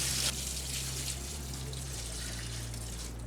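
Cold water runs from a tap into a cooking pot holding meat in a Parisian Michelin restaurant kitchen, a steady close rushing flow with a low hum beneath it for the whole stretch.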